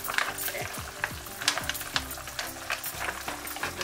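Mussels tumbling into a Jamaican seafood boil pot and being stirred, with repeated clattering knocks and scrapes over a continuous sizzling bubble, close and fairly loud.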